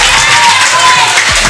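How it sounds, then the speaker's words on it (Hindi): Audience applause and crowd noise fill the space at a mall game show in Hyderabad, a steady dense clatter of clapping with some voices mixed in, close and fairly loud throughout. "इधर वाले खामोश हैं, भरपूर तालियां"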